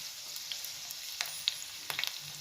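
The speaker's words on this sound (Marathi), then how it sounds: "लसणाचा चटका द्यायचा आहे." Garlic and cumin crackle and sizzle in hot oil for a tempering being poured over hand-ground red chili thecha, a close, steady hiss with sharp pops and no talk.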